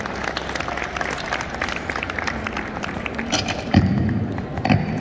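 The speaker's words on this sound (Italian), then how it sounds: "Un bel applauso, Bassan Gypsy Music of Rajasthan." An outdoor festival crowd gives steady applause for Rajasthani gypsy musicians, a dense wash of clapping with a couple of louder thumps near the end.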